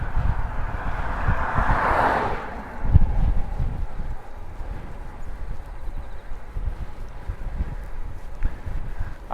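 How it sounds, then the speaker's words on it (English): Steady wind buffeting the microphone during a bike ride through Nagoya, Japan, a constant low rumbling roar that swells in a brief gust near the start and carries on throughout with no talking. "Oh man, the wind is changing direction."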